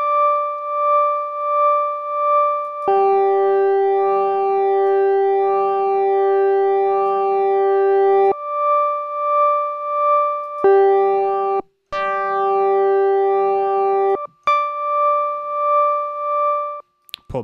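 A synth patch built from stock Ableton devices plays a sustained held chord whose tones pulse in an LFO-driven rhythm, stopping and restarting several times in short sections, loud and clean with no talking.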